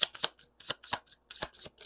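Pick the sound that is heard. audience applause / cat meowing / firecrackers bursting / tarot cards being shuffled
tarot cards being shuffled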